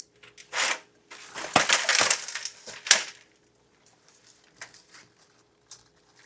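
A plastic plant tray crackles and crunches while a large Monstera Albo is being repotted, with several close crackling bursts in the first three seconds before fading to faint scattered rustles.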